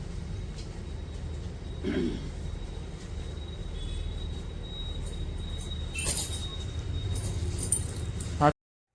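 Keys jangle in a few brief bursts against a steady background hum of traffic or a vehicle interior, with a louder clink near the end.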